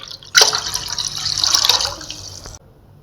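Water is poured into a pot to cook broken rice, a steady splashing rush lasting about two seconds before stopping abruptly.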